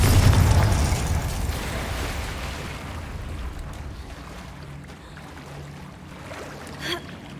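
A Confringo blasting spell goes off in the Hogwarts Legacy game, a loud deep explosive boom that rumbles and slowly fades over several seconds, with a brief sharp crackle near the end.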